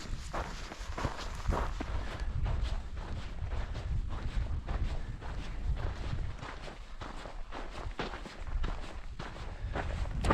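Footsteps walk steadily along a desert vehicle track in the Eilat Mountains, Israel, making a continuous crunching rhythm on rough ground, with light wind noise against the microphone.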